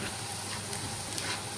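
Chopped onions sautéing to golden brown in a pan, giving a steady, even crackling hiss of frying at moderate volume, with no one talking.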